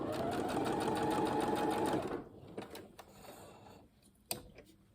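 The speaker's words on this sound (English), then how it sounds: "We're only stitching down that side seam." A sewing machine stitches a trouser side seam, humming and whirring steadily for about two seconds before it stops. Then come a few soft clicks and handling noises, all up close with no voice.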